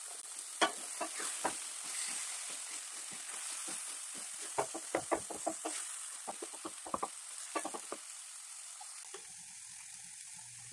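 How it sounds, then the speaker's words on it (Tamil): Two chopped tomatoes cooking in a covered pan give off a soft, steady sizzle, with a run of sharper spatters and pops in the middle before the sound drops to a quieter hiss. "இப்போது தக்காளி மூடி வச்சு ஒரு 2 மினிட்டு நல்லா குக் பண்ணிக்கிறேன்."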